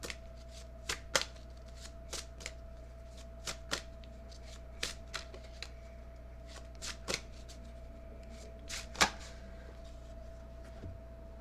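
Tarot cards are shuffled by hand at close range, quiet crisp riffles and taps recurring irregularly against a faint steady hum, with no voice heard.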